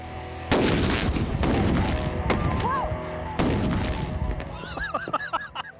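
A gas-filled bag detonates in a loud, sharp boom, followed by a second blast and rumbling debris, with ringing, whistling tones and voices reacting afterward.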